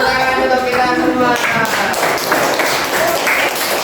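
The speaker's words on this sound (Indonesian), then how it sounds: "Beri tepuk tangan untuk kita semua" A small group clapping in a classroom-style coaching session, scattered hand claps that follow a brief voice and continue unevenly at moderate loudness.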